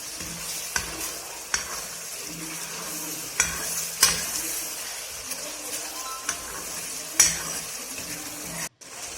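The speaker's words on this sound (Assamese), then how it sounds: "ভাজি দিয়া হৈছে তেলত।" Ground paste of tomato, onion, garlic and chili fries in hot oil in a pan, giving a low sizzle punctuated by repeated sharp scrapes and knocks of a spoon stirring against the metal.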